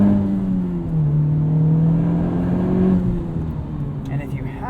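A 2021 Honda Civic Type R Limited Edition engine hums while driving, a steady mid-pitched drone that rises and falls gently with throttle, heard from inside the cabin with a voice speaking over it.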